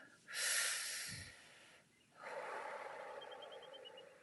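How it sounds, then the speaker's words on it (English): One deep breath, close and quiet: a long airy inhale, a brief pause, then a slow, drawn-out exhale. "Take a deep breath."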